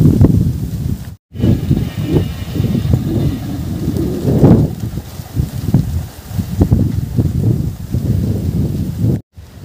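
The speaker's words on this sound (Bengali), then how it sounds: "তাল গাছের যে পাতার শব্দ, ভিডিওতে আপনারা শুনতে পাচ্ছেন। আর অনেক বাতাস।" Palm tree leaves rustle and thrash in strong wind in a rural village, with gusty, surging low roaring and wind buffeting the microphone, swelling and easing in waves.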